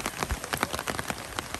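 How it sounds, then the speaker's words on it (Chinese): Steady rain patters close by at a campsite in Dahu, Miaoli, a dense, even hiss of drops striking surfaces with no voices. "下雨"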